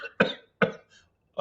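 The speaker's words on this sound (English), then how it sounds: "Dry breathing or" Three short, dry coughs with no mucus, close and distinct, separated by brief silences, the last coming after a longer pause.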